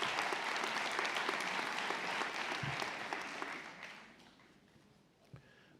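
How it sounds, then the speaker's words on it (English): Convocation audience applauds as the leadership steps up to the stage, a loud sustained clapping that gradually thins and fades to scattered claps and near quiet by the end. "Let's give them a round of applause as our leadership steps up"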